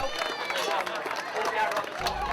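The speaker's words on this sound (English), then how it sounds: "The drivers receive a very well-deserved cheer on the podium." Crowd of spectators cheering the drivers on the podium after the 2011 MINI Challenge final at Snetterton, a busy wash of cheers and applause with voices mixed in.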